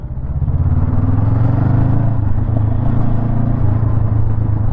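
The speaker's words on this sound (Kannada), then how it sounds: "Parallel twin engine." Honda NX500 adventure-touring motorcycle with a six-speed gearbox and parallel-twin engine, heard while riding: a steady, loud engine drone with low rumble and wind, no speech.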